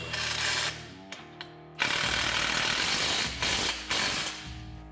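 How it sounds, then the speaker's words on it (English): A ratchet tightening brake caliper bolts on a Polaris RZR XP Turbo, with short clicking bursts broken by pauses, close and clear in a workshop. "Now we're gonna go ahead and fully tighten our brake caliper bolts here."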